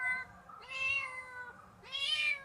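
A cat meows twice, two drawn-out cries separated by a short pause, fairly close and clear with no other sounds.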